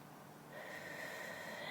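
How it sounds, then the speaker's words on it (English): A nice big breath drawn in slowly through the nose during a quiet, whispered cosmetics session, a soft, close airy inhale that gradually swells over a second or so. "take a nice big breath in"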